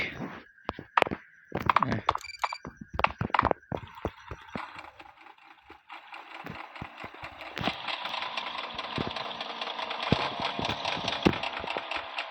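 A motorbike engine in the mobile version of GTA 5 settles into a steady idling drone from about halfway through. A few sharp taps and knocks come before it.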